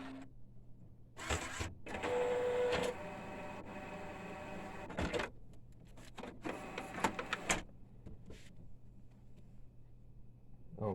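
An Epson L1800 printer converted for DTF printing powers on, giving a short beep followed by steady mechanical whirring and several clicks and clunks as it initializes, fairly quiet and close.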